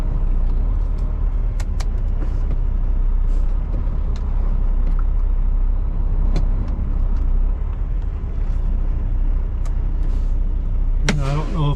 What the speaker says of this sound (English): Try to release the brakes.